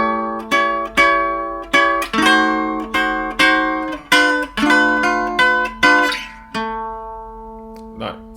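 A twangy guitar plays a Delta blues intro with a bouncy shuffle, plucked notes repeating in a steady rhythm before a final ringing chord and a short strum.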